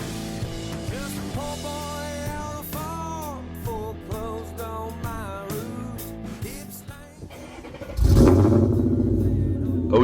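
A car engine fires up late, breaking in with a sudden loud, deep rumble and revving after a stretch of tonal, voice-like sound.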